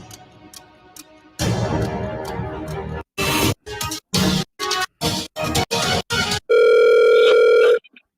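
Telephone line while dialing the Hibbing Police Department: a faint low hum gives way to a run of short, evenly spaced keypad tone bursts, then a loud steady dial tone holds for over a second before cutting off.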